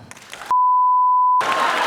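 A stand-up comedy audience breaks into applause and cheering right after a long, steady censor bleep, the crowd noise swelling loud and continuous to the end.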